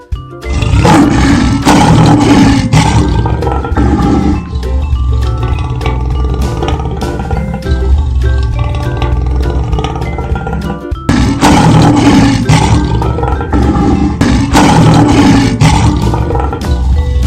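A lion roars loudly and up close in two long, rumbling bursts separated by a brief pause, with no voices.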